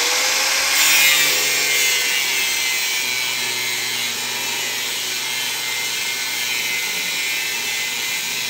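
Hacksaw cutting a metal part for a fairground ring-the-bell high striker, heard as a loud, steady, close-up grinding rasp that holds continuously throughout.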